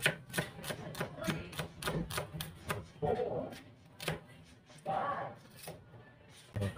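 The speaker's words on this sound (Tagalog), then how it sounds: "Magahit muna tayo ng sibuyas." A knife slices an onion on a cutting board for an omelette: a quick, steady run of sharp, close taps, then a few spaced cuts, with a person talking between them.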